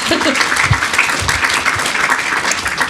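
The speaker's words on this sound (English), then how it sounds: "So you guys can give yourselves a round of applause." Audience applause at a live horse Q&A event at Kingston Park, a steady spatter of clapping lasting a few seconds with some voices mixed in.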